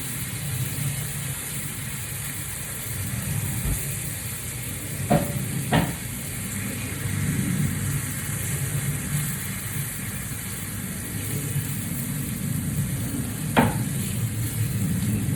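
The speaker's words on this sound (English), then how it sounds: "I'm gonna put my steak in." Steak sizzles in a pan with a soft, steady frying hiss at moderate distance, broken by a few sharp clicks and taps, and nobody speaks.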